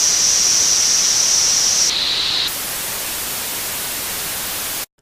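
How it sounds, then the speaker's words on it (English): Pure noise source of a drone synthesizer, a steady loud hiss of broadband static with a faint high whistle tone that shifts pitch, then cuts off abruptly at the end. "that's the sound of the pure noise source"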